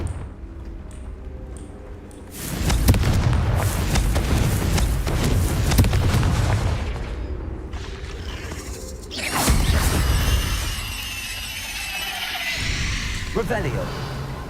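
Confringo explosive spell going off in Hogwarts Legacy: loud booming blasts with whooshing debris and crashing, a first burst lasting several seconds, then a second explosion with ringing tails.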